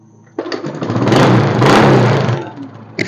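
A Honda Supra X 125 motorcycle is kick-started and catches at once, its single-cylinder engine rising into a loud, close, rough running note for a couple of seconds before settling and fading off.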